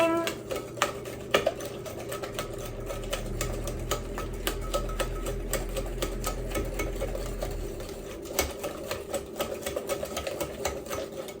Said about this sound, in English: I'm gonna whisk the maple syrup and heavy cream